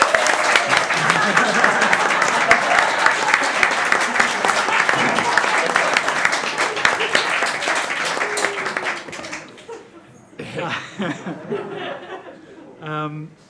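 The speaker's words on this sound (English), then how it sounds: "Give them a big round of applause" Theatre audience applauding the tech desk crew at a live show, a loud sustained round of many hands with some chuckles mixed in, fading out near the end as a voice begins speaking.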